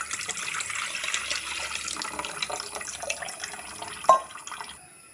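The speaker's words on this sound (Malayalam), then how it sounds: "അത് പിഴിഞ്ഞിട്ടുള്ള വെള്ളം ഒഴിച്ച് കൊടുക്കുകയാണ്" Squeezed kudampuli (tamarind) water poured into a cooking vessel for small onion sambar, a soft continuous liquid trickle and splash, close and quiet, ending with a brief louder splash before stopping.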